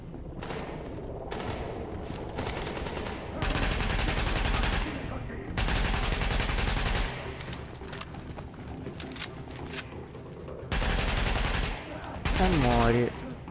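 Bursts of automatic gunfire in The Division video game come in several loud, sustained volleys separated by quieter stretches of footsteps and mechanical clatter, with voice-like sounds in the gaps.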